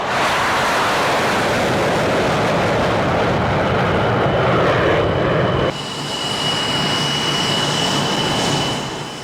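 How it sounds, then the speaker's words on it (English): French Air Force Mirage 2000 jets roar past during a D-Day 50th anniversary flypast in 1994, a loud sustained broadband rush that holds steady, then drops abruptly into a thinner, fading whine as the formation recedes; no one talks. "Mirage 2000s from the French Air Force."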